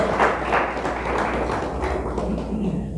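Church congregation clapping together in a loud, steady burst of applause with voices mixed in, continuing throughout.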